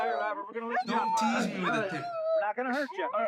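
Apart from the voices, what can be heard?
dog barking during police traffic stop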